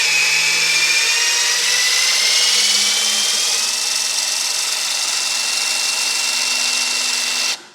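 A power torque tool whirs continuously up close as it loosens car wheel lug nuts, its high motor whine shifting slightly in pitch for nearly eight seconds before cutting off abruptly.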